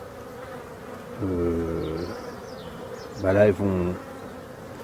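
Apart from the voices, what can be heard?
honeybees buzzing at hive entrance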